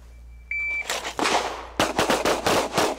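A start beep sounds, then a volley of pistol shots rings out at a shooting range during a military pistol test, several sharp close cracks in quick uneven succession.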